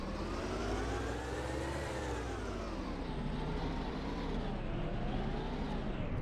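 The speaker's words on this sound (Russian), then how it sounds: "Или это автобус там?" A bus engine in the military game Operation Flashpoint drones steadily throughout, revving and shifting in pitch as the vehicle moves, with no talk over it.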